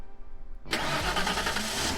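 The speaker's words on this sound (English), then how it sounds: "Kotori got into the car, then left with her family." A car engine cranks and catches at once, then runs at a steady mid-pitched idle, close and fairly loud, in a visual novel scene as a family drives off, with no talking.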